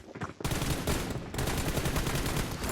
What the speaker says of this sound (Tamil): இது வந்து ஷார்ட் கன்